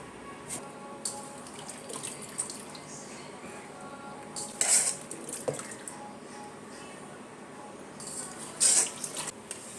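Jackfruit being washed in water in a kitchen, close, gentle trickling and splashing with two louder sloshes.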